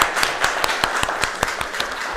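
Audience applause at a live talk event, steady clapping from a crowd with sharp individual claps standing out, sustained for about two seconds without speech.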